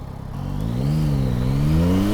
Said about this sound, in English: It does have that grunt though, that same MT-09 grunt